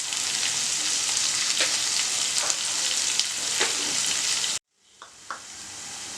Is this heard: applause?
no